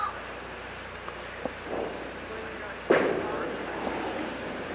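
A bowling ball strikes the pins in a 1981 televised women's tournament, a sudden crash midway through the clip that follows quiet, faint background hall noise and a few small knocks.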